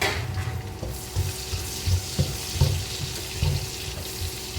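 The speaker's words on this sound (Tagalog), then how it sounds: "pabrownin natin yung sibuyas hanggang mag-golden brown" Sliced garlic and onions fry in a pan with a continuous sizzle, while a utensil stirs them in regular, rhythmic thumps and scrapes close by.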